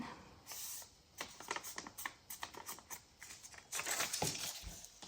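A paper bag for a junk journal is folded and creased by hand, producing quiet crisp rustles and crackling bursts in short uneven bursts, close up with no speech.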